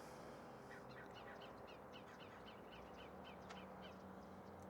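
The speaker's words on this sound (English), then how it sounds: "The sound of the crows in the background sound a little manic" Crows caw in quick repeated calls in the background, faint and distant over a steady hiss, with no talking.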